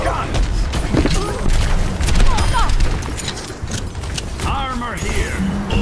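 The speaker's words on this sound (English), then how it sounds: "The war goes on. Hear those guns!" In the video game Overwatch, rapid gunfire from the soldier character crackles in dense bursts and bangs, loud and close, mixed with spoken voice lines from the characters.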